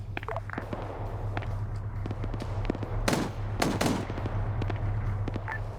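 Video-game gunfire: dragon rounds are fired into a fortified building, with sharp shots and a couple of louder cracking bursts over a steady low rumble and scattered footstep-like clatter.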